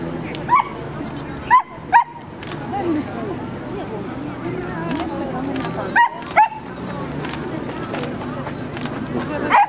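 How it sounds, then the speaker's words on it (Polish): Rough collie barking at an outdoor dog show, several sharp close barks and yips in irregular bursts while people talk nearby. "To jest pies klasa czempionów w Koli."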